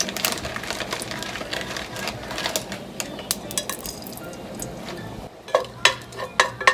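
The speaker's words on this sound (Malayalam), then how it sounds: "ജസ്റ്റ് ഒന്ന് നമുക്ക് സോട്ട് ചെയ്ത് കൊടുക്കാം." Cardamom pods and cloves sauté with mustard seeds in a pan for a Kerala-style vegetable kurma. Close, irregular scraping and clinking of a spoon against the pan rides over a soft sizzle, with a sharper burst of knocks near the end.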